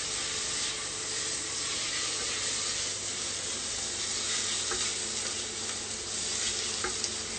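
Two cloves of garlic fry in a pan with a steady, close sizzle and hiss, plus faint scraping as the pan is stirred during a home cook-along.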